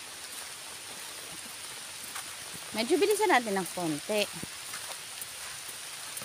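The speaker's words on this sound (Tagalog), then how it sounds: "Ambon pa lang naman." Light drizzle falls in a rural Mindanao setting, a soft continuous patter, while a person speaks briefly in the middle over it.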